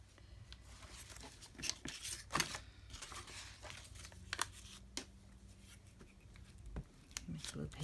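Scissors trimming a paper edge while making a handmade journal: quiet scattered snips and paper rustles at close range, a few sharper cuts among soft handling noises.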